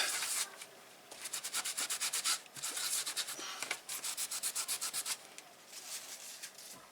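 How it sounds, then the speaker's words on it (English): A cloth soaked in acetone nail varnish remover is rubbed hard over etched metal, giving close, rhythmic scrubbing strokes in quick bursts with short pauses between them. "get a bit of nail varnish remover, also known as acetone. Give it a bit of a rub."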